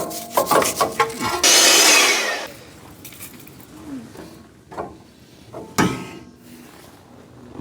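Front brake parts of a Mitsubishi Triton MN being scrubbed clean, with a burst of loud, harsh rubbing and rasping near the start, then scattered knocks, wipes and scrapes at moderate level.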